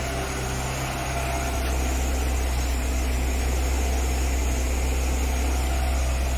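An old, rusty Citroen BX idles steadily with a rattle somewhere in it, giving a constant low engine drone with a faint metallic buzz, heard close and unbroken.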